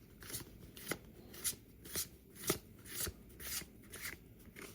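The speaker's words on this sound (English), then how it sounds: "And we are ripping through these cards." Pokemon card packs being ripped open and flipped through, with a steady run of crisp close-up card snaps and shuffles roughly twice a second, quiet and alone.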